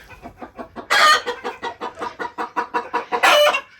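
Hens cackle and cluck loudly right after laying eggs, a steady run of rhythmic squawks building to two louder bursts, close by and with no talk over it.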